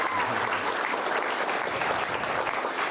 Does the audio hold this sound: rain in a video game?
no